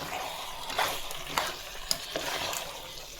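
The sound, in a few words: chicken frying with masala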